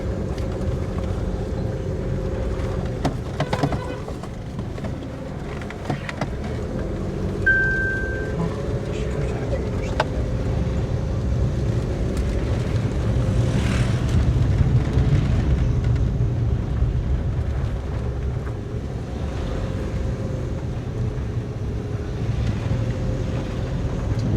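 A tuned Suzuki Alto VXR automatic car runs on a test drive, its low engine drone steady under wind buffeting and road noise, with people talking over it inside the cabin.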